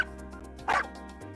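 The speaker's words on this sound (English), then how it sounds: "I take care of our dog, Casper." A pet dog gives a single short, loud bark-like yip at close range, standing out briefly over a steady hum of low background noise.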